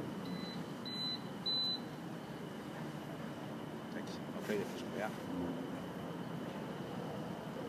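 Microwave oven alarm giving two short, clear high beeps near the start, faint over steady background hum with talk around it.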